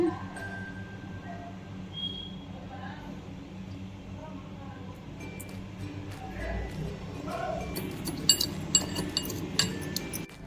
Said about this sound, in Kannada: ಈಗ ಏಲಕ್ಕಿ ಹಾಕ್ಕೊಂಡಿದ್ದೀನಿ, ಸ್ವಲ್ಪ ಸಕ್ಕರೆ ಹಾಕ್ಕೊಂಡಿದ್ದೀನಿ. ಬೇಗ ನುಣ್ಣಗಾಗುತ್ತೆ. ಈಗ ಕುಟ್ಕೊಳ್ತಿದ್ದೀನಿ.